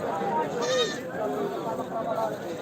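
A Beetal goat bleats briefly amid lively chatter at a goat sale, its wavering cry rising over several people talking close by.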